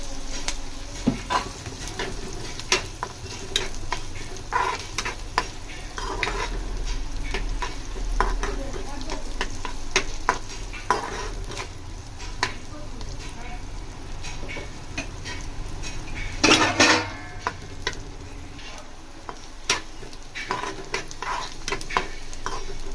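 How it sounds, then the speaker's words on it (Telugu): Onions frying in oil with asafoetida and curry leaves for a tomato pachadi, stirred: a continuous close sizzle with frequent scraping and tapping of the spoon against the pan, and a louder burst of sizzle partway through. "ఆనియన్ ఈ విధంగా ఫ్రై అయితే సరిపోద్ది."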